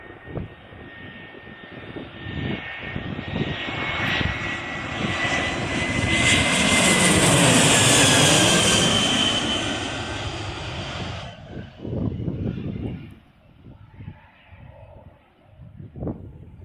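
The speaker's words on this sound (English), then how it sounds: "Is it going to be EasyJet? I bet it's an Airbus A320." An EasyJet Airbus A320 airliner passes overhead near Birmingham Airport, its jet roar swelling to a loud peak mid-pass and then fading away, with a falling pitch sweep as it goes by and outdoor sounds after.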